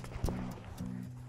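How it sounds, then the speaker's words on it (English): An Icelandic horse ridden bareback at a walk in Colorado gives a few soft hoof clops along with a low snorting or whinnying tone, quiet and close. "So here we are at a walk on a very cute Icelandic horse named Rappy in beautiful Colorado."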